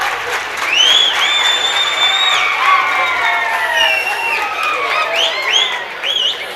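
An audience applauds at a public gathering, steady clapping mixed with high whoops and cheering voices rising and falling over several seconds.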